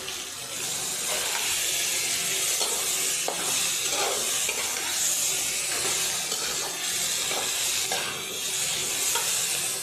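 A chopped tomato fries with spices in a pan for a potato curry with cauliflower and peas, giving a steady sizzle broken by soft stirring scrapes, with no talking.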